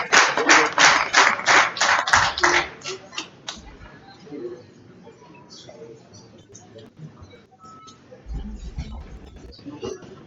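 Brief burst of audience clapping at a talk on national decentralisation policy, a few seconds of hand claps that quickly die out into quiet room noise and murmurs.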